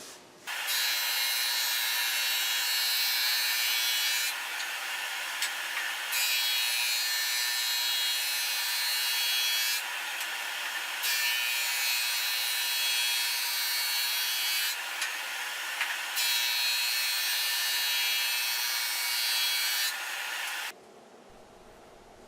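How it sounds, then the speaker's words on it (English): A board sander runs steadily on laminated wooden boards planed on a jointer, a loud continuous abrasive roar lasting about twenty seconds with slight periodic changes as the boards feed through, then cutting off. "do run these boards after they've gone through the joiner planer through my board sander, just to get the surfaces nice and straight"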